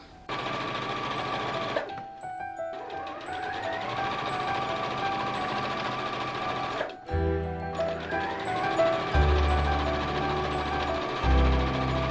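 A sewing machine stitches the front skirt tier of a festive Christmas dress, running in a steady, close mechanical whir with brief pauses and restarts. No one speaks.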